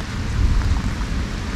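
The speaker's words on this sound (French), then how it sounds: "Il y a des éclairs, des orages, c'est la crise." Heavy rain pours in a dense, steady roar with deep low rumbling of a thunderstorm, loud and close, beside a wild river during a carp fishing trip.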